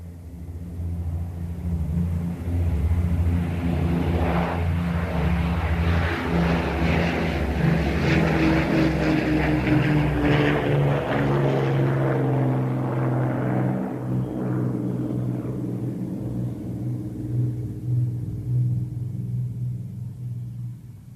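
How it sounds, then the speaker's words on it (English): A propeller aircraft drones steadily in flight, a continuous, loud engine rumble and hum that swells slightly and holds throughout, with no voices over it. "I thought Fenner was piloting us"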